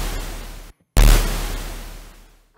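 Synthesized explosion effect from Phase Plant, sine and noise run through hard-clip distortion with drive near maximum: a dense, harsh noise wash, then a brief gap and a loud distorted burst that slowly fades.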